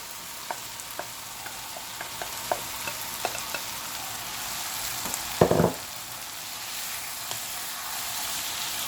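Paneer and green capsicum frying in a pan under a soft steady sizzle, with light scattered stirring taps and one louder scrape and clatter midway.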